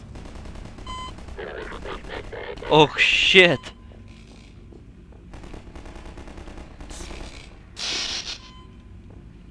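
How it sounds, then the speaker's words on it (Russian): Gunfire in a Half-Life 2 Episode 2 mod game, heard as a couple of short, loud bursts of shots amid the game's background noise while someone talks over it. "Только стрельба я слышу на заднем плане"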